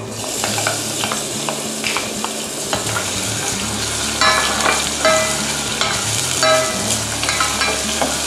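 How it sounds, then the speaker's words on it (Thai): Finely chopped onion stir-frying in smoking-hot oil, a loud, continuous sizzle with steady spatula scraping and stirring throughout, no talking. "ใส่หอมใหญ่ลงไปผัดค่ะ"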